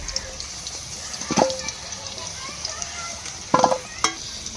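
Potatoes sizzle and fry in hot oil in a pan, with a steady crackle and occasional louder stirring scrapes, close up and without speech.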